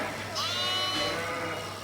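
A ewe bleats once in a wavering, mid-pitched cry during spring shearing, heard against steady background noise from the shearing shed.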